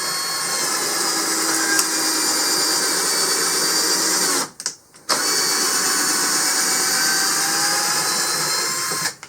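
A Hyper Tough 20-volt 3/8-inch cordless drill drives a T25-head decking screw, a steady loud whirring motor run with a brief break in the middle before it spins up again, no talking.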